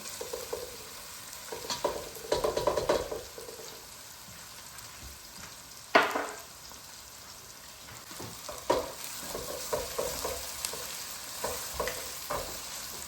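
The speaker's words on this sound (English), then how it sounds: "And we'll do these for about 3 to 4 minutes, take the rawness off the garlic and the ginger." Garlic, ginger and onions frying for chicken jalfrezi, a continuous close sizzle broken by several scraping stirs and clatters of the spoon against the pan, with no speech.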